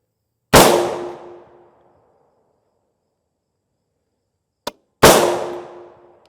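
Two very loud rifle shots fired through a muzzle brake into a level IIIA armor shield, each a sharp blast with a long ringing decay, a small metallic tick between them.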